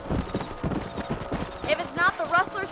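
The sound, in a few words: horse galloping in Red Dead Redemption video game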